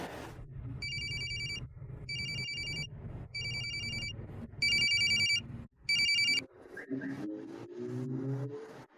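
A phone ringtone repeats in short bursts of bright electronic chimes, several rings in a row, over a rumbling car engine in the background.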